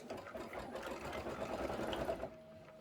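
An embroidery machine stitches a Kimberbell table topper with a steady, rapid mechanical whir, heard at a moderate distance and quietly, without pause or voices.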